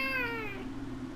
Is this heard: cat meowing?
yes